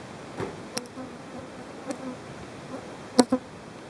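Honey bees buzz around beehives set out in a flowering rapeseed field, a soft, steady outdoor drone broken by a few brief, louder passes close by.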